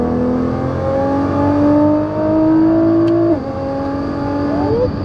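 A 2019 Nissan GT-R Track Edition accelerates hard in third gear from 4,000 RPM, the engine note climbing steadily in a loud whirring roar, with a brief dip at an upshift before rising again.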